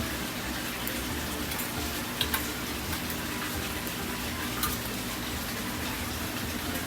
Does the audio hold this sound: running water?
yes